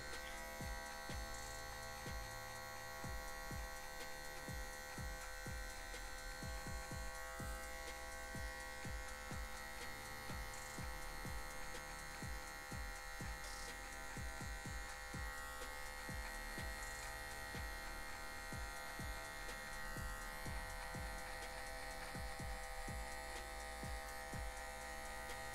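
An electric hair clipper buzzes steadily and close throughout a haircut, its constant hum broken by short scraping strokes as the blade cuts and fades the hair, with no talk over it.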